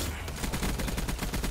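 The Death Machine fires in Black Ops 3 Zombies on a cabin-in-the-woods custom map, a rapid continuous machine-gun stream of evenly spaced shots, loud and close, with no talking over it.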